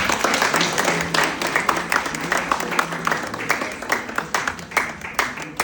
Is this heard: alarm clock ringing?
no